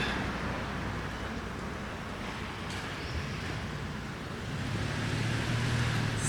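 Steady traffic rumble fills a small town's main street, with cars passing continuously at moderate distance over a broad wash of road noise and no voices.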